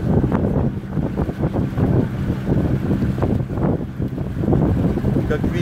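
A steady outboard motor on a Sea Fisher 610 catamaran drones at medium revs, constant and close, with wind buffeting and water noise throughout.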